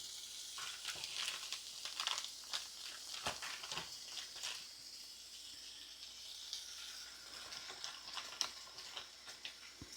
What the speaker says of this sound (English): So now we about to put the bacon on because the pan is hot.